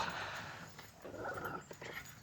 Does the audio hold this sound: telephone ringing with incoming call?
no